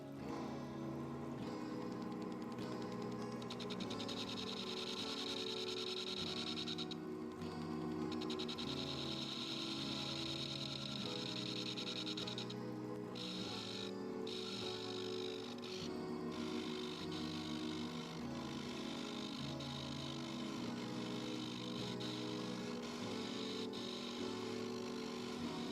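A metal lathe turns a workpiece held in cole jaws at 600 RPM, giving a continuous, faint, steady machine hum with a tonal whine and brief dips in the upper ring.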